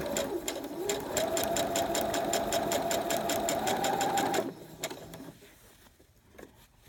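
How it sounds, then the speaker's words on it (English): A sewing machine stitches a rolled hem in a steady fast whirring run for about four seconds, then stops, leaving a few faint handling clicks. "So I hold it at an angle going that way, which is towards my left hand. And I start sewing."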